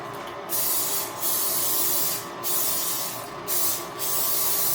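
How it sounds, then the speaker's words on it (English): Several short hissing bursts of an olive oil aerosol spray can, each lasting under a second with brief pauses between, close by and fairly loud. "This is an olive oil spray."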